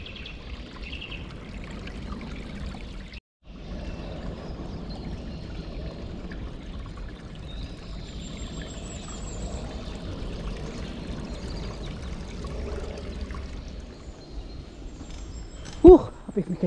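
Water pours steadily through an old culvert in a wooded, wet nature reserve, a constant moderate rushing flow with faint birdsong, broken by one brief gap and a sharp sound near the end.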